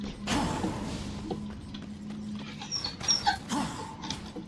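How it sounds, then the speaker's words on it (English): A pet dog whimpers and cries in the background of a Darksiders gaming session, a string of thin, high whines and yelps rising and falling at moderate distance, with some faint game noise around it. "Sorry about my dog crying in the background."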